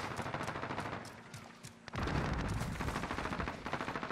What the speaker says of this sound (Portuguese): ele deu uns 10 tiros em um segundo